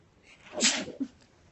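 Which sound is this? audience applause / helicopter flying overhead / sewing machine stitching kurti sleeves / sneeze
sneeze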